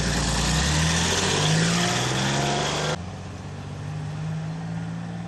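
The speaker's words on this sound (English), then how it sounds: "That's the council truck laying all the grit" A council gritting truck on a road on the island of Foula passes close by, its loud engine roar and spreading noise filling the first three seconds before dropping to a steadier, quieter rumble as it moves on.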